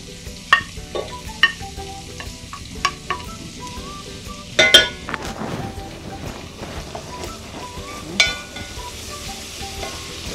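Onions, chives and bell pepper sizzle softly in a pan, with repeated stirring scrapes and knocks from a utensil rising above the low, steady frying hiss.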